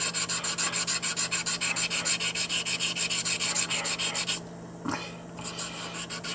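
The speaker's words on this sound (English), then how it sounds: "when you think you're done, sand it some more" Steady, rhythmic back-and-forth rubbing of a fossil sand dollar echinoid, Dendraster gibbsii, sanded by hand, close and fairly loud, stopping near the end with a soft knock.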